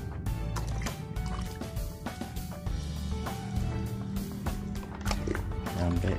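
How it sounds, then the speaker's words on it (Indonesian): White fungicide solution is poured onto aglaonema potting medium, a continuous wet splashing and trickling under steady background music. "kita akan menyiramnya dengan larutan fungisida"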